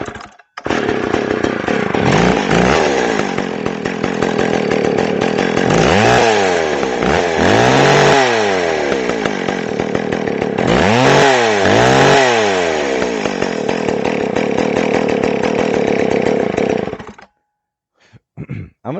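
A McCulloch Pro Mac 610 chainsaw runs loud and close, idling steadily with a few sharp throttle blips along the way before it cuts out near the end.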